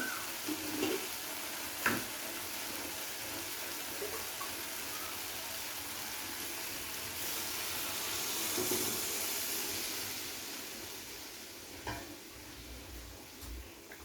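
Water is poured into masala frying in oil for a dahi bhindi gravy, giving a broad sustained hissing sizzle that swells midway, with a few sharp clinks of a utensil against the pan.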